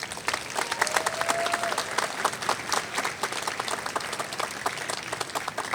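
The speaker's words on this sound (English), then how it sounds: "Let's give them a big round of applause." A crowd gives sustained applause at the 2017 UCLA Chemistry and Biochemistry commencement, a dense, even wash of many hands clapping at fairly close range for the whole stretch.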